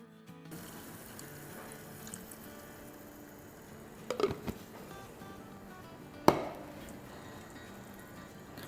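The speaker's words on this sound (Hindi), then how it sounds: "तो इसमें अब हम डालें ये पानी" Water pours and splashes into a pan in a couple of brief bursts, with light kitchen clatter and a steady low background hum.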